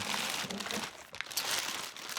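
Plastic wrap around a HEPA air purifier filter crinkles and crackles in close, irregular bursts as it is handled during unboxing, with no talk over it.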